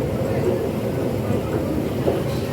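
Steady rumble of a passenger train ride in Hong Kong, a continuous low mechanical drone with faint rattling throughout, close and fairly loud with no talking.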